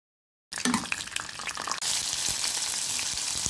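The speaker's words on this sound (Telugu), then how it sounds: "మనం ముందు జీడిపప్పుని అయితే ఫ్రై చేసుకుందాం" Cashew nuts fry in a pan of hot oil for chicken dum biryani, a close, dense sizzle that starts abruptly after a brief silence and then settles into a steady crackle, no one talking.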